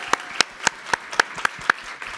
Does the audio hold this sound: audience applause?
yes